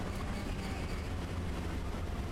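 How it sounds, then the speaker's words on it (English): A Sherman tank engine rumbles in the Hell Let Loose video game, a continuous low drone, fairly distant and unbroken, with no one talking over it. "I don't know, but I hear an engine, that's a Sherman."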